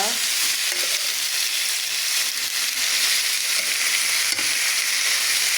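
Whole garlic cloves fry beside already-cooked liver in a hot pan, giving a steady, close, loud sizzle with crackles and a few sharp pops throughout. No one speaks.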